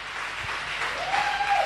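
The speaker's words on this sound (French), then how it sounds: "Acclamation bien nourrie" A short burst of steady clapping from a church congregation, moderately loud and continuous, with a faint tone rising near the end.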